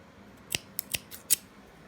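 Scissors clip off loose yarn ends on a crocheted mug cozy with about five crisp, close snips in quick succession, and nobody speaks.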